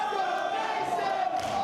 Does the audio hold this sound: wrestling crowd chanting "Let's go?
yes